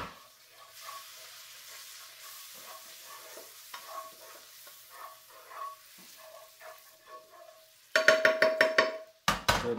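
Garlic, about four to six cloves, frying in a pan over lowered heat for a crappie scampi, a soft steady sizzle with scattered stirring scrapes, ending in a burst of louder rhythmic clatters near the close.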